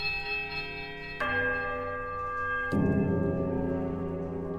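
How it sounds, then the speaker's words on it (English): In the Pillars of Eternity video game, a large central bell flanked by two smaller ones is struck in turn, each strike a loud metallic clang followed by a long, sustained ringing hum that overlaps the previous tone. "You heave at the bell and it swings back to the powerful note, heavy ringing."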